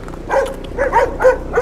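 A dog barks four times in quick succession on a city street, short close yelping barks with a slightly whiny edge, evenly spaced and loud with no talk over them.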